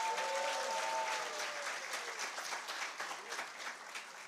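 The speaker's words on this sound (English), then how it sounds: "Round of applause for Ascend CEO" Audience at the Transform Africa Summit 2023 closing ceremony applauding the CEO of Ascend, sustained dense clapping that starts loud and gently fades, with a brief voice over the first moments.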